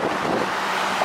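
Fast-moving floodwater after storms in Oklahoma rushes with a steady broadband roar, mixed with wind buffeting the microphone.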